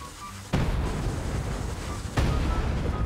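Dynamite blows up in the Fortnite video game, two loud booming explosions about a second and a half apart, each with a rumbling tail and no talk.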